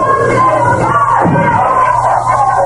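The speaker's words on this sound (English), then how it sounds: "And the crowd picking up a chant, "Go, Dale, go."" Wrestling crowd at a 1985 Championship Wrestling From Florida match chanting for Dale Veazey, a loud, dense arena roar with rhythmic massed voices rising and falling, close and continuous.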